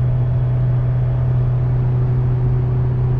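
A Toyota 4Runner engine hums at a steady low drone while towing a load on the road, the constant rumble holding its pitch with a faint whine above it and no gear change standing out.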